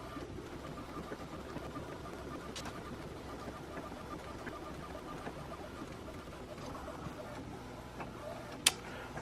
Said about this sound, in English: It looks fantastic, and it is printing much faster than the 1430.